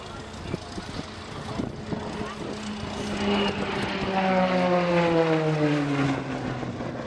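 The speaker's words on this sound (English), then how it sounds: "The aircraft that just fired up in front of me is a Taylorcraft." A Taylorcraft light aircraft at an air show fires up its propeller engine nearby, a rough start that settles into a rising, steady droning hum with harmonic whine, loud and close, with people talking in the background.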